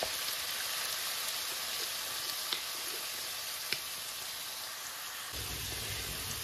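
Mutton mince fries on a slow flame with lemon juice added, giving a steady, close sizzle with a few soft pops, easing slightly toward the end.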